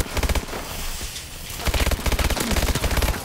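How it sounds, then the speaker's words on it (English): Bursts of automatic gunfire from a Call of Duty Advanced Warfare gunfight, rapid rattling volleys with a short lull in the middle before heavier firing resumes, loud and close. "Oof, that was a tough gunfight"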